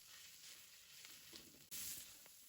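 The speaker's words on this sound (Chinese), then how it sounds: "锅烧热，加少许的油，把五花肉倒进去，翻炒出五花肉多余的油脂" Pork belly stir-frying in a little oil in a hot wok, a close, steady sizzle with soft stirring scrapes and a brief louder burst of spitting near the end.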